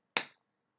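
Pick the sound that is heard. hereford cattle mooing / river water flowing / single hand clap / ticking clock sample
single hand clap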